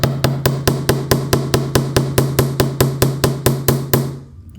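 A small hammer taps a wire head pin flat into a paddle for boho earrings, about twenty rapid, even metallic strikes, close and crisp, then stopping.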